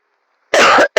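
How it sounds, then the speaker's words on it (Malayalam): A single harsh, loud cough at close range from someone sick with fever and a cough, with the start of another cough cut off right at the end. "ഭയങ്കര ചുമയാണ് കേട്ടോ."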